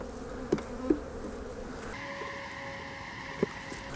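Honeybees at a winter hive give a steady low buzz close by, broken by a few faint clicks and knocks, with no talking.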